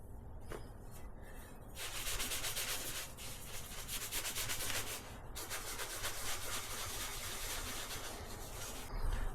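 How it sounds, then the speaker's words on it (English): A rusty part from a 1952 Chevy being rubbed with chrome polish: steady, close scrubbing strokes in a dense hissing rasp that runs almost continuously, with brief pauses between passes and no talking. "I'm using a chrome polish just to clean it up a little bit."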